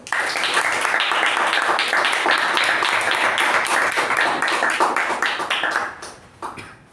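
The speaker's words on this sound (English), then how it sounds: "With a thunderous round of applause, please welcome our President, Toastmaster Latha." Sustained, dense applause from a sizable crowd at a Toastmasters club meeting, steady and loud for several seconds before thinning out and fading at the end.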